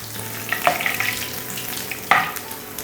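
Ginger fries in hot oil in a pan, giving a constant close sizzle with a couple of brief scraping stirs.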